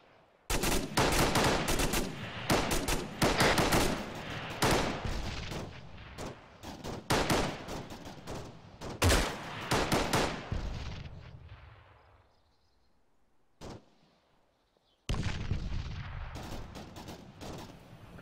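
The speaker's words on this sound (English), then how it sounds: "Yeah, that was my grenade." Grenade explosions and bursts of gunfire in the military shooter Arma, loud rapid volleys and blasts for several seconds, a lull with one isolated crack, then heavy firing resumes.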